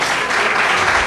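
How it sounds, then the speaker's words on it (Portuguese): Church congregation applauding in a dense, steady wash of clapping throughout a Portuguese-language sermon, loud and close with no gaps. "Você pode aplaudir isso"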